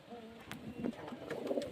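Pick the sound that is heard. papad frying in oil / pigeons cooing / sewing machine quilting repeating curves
pigeons cooing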